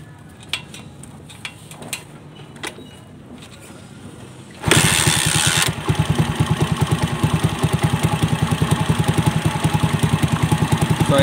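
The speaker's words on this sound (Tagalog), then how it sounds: "So ayan, try natin patayin. Then paandarin natin kung madali na bang paandarin." Motorcycle with a pushrod engine and a modified carburetor: a few clicks and taps, then a sudden start that settles into a close, loud, evenly pulsing idle.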